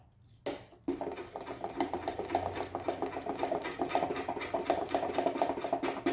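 Whisk beating a thick homemade gesso mixture in a bowl, a steady rapid rhythmic clatter that starts after a brief knock and continues evenly, close and moderately quiet.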